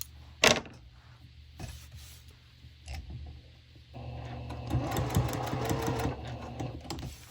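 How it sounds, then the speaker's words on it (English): A sewing machine stitches a Dresden plate quilt: a few sparse clicks and short bursts at first, then a steady, close mechanical whir of continuous stitching for the last few seconds. "So keep on sewing."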